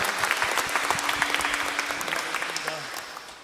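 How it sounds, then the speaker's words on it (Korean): A church congregation at an Easter Sunday service breaks into lively applause, a dense, even clatter of many hands with voices mixed in, gradually tapering off. "부활하신 주님께 감사와 영광의 박수 올려드립니다"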